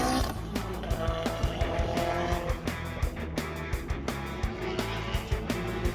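Race cars lap the Hampton Downs circuit, their engines droning with repeated sharp passing bursts and a hint of tire squeal, heard at moderate distance from the sidelines.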